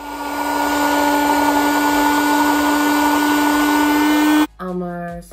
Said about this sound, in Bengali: আমি এটাকে জাস্ট ব্লেন্ড করব